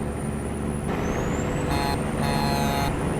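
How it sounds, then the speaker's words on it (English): A truck horn sounds in American Truck Simulator, sustained blasts layered over a steady engine drone, with brighter tonal bursts partway through. "You know what I haven't done is try out the horn on this thing"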